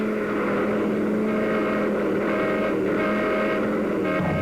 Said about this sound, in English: we had to practice dodging traffic.